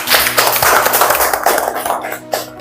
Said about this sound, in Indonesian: Aplaus, tepuk tangan dulu.